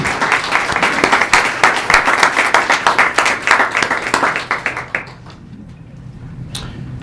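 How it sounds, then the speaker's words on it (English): A room gives the school district's Board of Education a round of applause at a board meeting, close rhythmic clapping that fades out after about five seconds into a quiet room. "let's give our Board of Education a round of applause for all they do"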